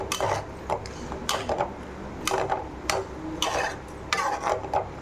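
Spoon stirring spinach kootu in a metal pan, a string of sharp scraping clinks and clatters in irregular rhythm, close and fairly loud with no talk.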